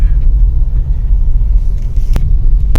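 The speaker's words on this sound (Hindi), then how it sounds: "यहाँ से रिवर्स करते हैं फटाफट से, तब लगाते हैं गाड़ी को पार्किंग में" A car reverses into a parking spot with a loud, low engine rumble close by, broken by two sharp clicks near the end.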